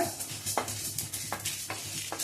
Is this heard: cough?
no